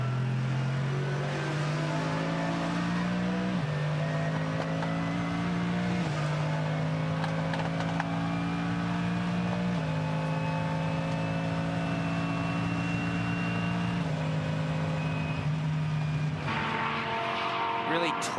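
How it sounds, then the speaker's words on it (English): A Mercedes GT race car engine revs hard through repeated upshifts as it laps Sydney Motorsport Park in a GT World Challenge Australia race, a loud sustained roar with stepped pitch changes and a brief quieter moment near the end. "Might have a listen to this car as it makes its way around for a lap"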